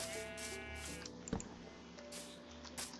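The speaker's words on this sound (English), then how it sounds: "No, I don't want you to kill the sheep." Sheep bleating in Minecraft, a few wavering bleats over quiet game background with a soft click, moderately close and with no talk.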